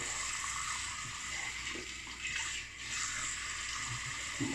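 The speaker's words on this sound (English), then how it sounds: "I'm going to splash cold water on the face because it is so hot." Running tap water is splashed onto a face at a sink during a wet shave. It makes a continuous faint rush with soft intermittent splashes and no speech.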